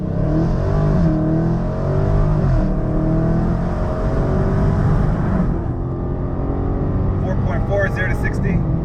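A 392 Hemi car roars as it accelerates hard while struggling for traction, engine note rising and wavering loud and near before easing off, with a voice speaking over it.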